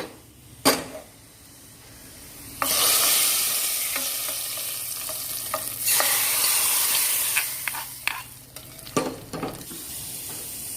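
Onions fry in a pan for white cherupayar curry, a loud steady sizzle broken by sharp clinks and scrapes of a spoon stirring against the pan, with no one talking.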